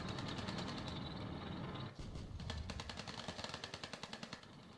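Aircraft attack in the video game Tropico 5: a steady droning roar of engines and combat, then a rapid, regular train of sharp gunfire-like bursts that keeps pulsing to the end, loud and with no talk.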